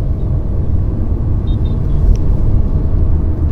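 Steady road and engine rumble inside a Skoda Kushaq 1.0 turbo petrol automatic SUV as it accelerates along an open stretch, a continuous, even drone with no talking.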